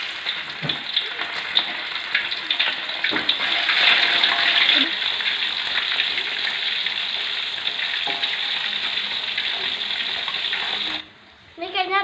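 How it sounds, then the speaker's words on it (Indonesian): Alu-alu fish frying in hot oil for a green-chili stir-fry, a loud steady crackling sizzle that runs nearly twelve seconds before cutting off, with a few clatters of stirring near the end. "Ini minyaknya udah panas, sekarang kita goreng ikannya"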